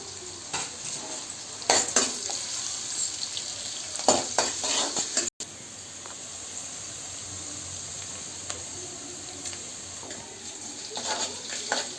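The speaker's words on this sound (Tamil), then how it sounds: "வெங்காயம் நல்லா வதங்கிடுச்சு" Onions with a pinch of salt sauté in a pan, giving a steady sizzle broken by intermittent scraping stirs of a spatula with light pan clatter, close and moderately loud with no talking.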